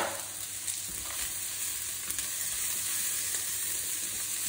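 Cashew nuts frying in a pan for South Indian upma, a steady close sizzle of hot oil with faint crackles running evenly throughout, no voices.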